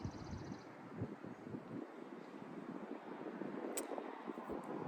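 Wind gusting steadily outdoors across open land, a continuous low rushing with buffeting at the microphone, moderately loud and unbroken, with no voices.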